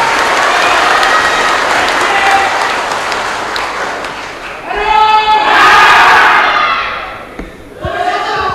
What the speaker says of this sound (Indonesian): mari kita beri tepuk tangan yang meriah kepada ketiga pasangan.